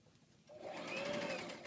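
A sewing machine runs a short burst of stitching on fabric while a garment seam is sewn past the shoulder, giving a steady whirring buzz that rises and holds, close and fairly quiet, with no talk.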